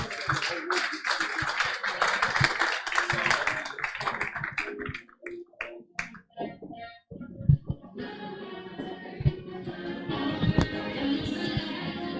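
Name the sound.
audience applause for speakers coming on stage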